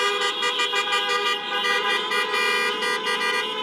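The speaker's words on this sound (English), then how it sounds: "Let's flash some lights, honk some horns." Several car horns blare together in a loud, sustained chorus, with short pulsing honks layered over a continuous tone.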